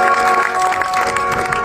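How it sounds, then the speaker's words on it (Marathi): A crowd at an outdoor gathering during the Pandharpur Wari pilgrimage claps together in a brief, dense burst of applause. "टाळ्या वाजवा।"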